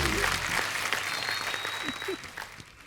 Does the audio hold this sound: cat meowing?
no